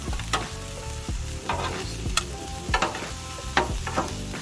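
Chopped meat, cheese and other ingredients sizzle on a hot griddle while a spatula mixes them, a steady fry under repeated sharp scraping and clacking strokes, close by.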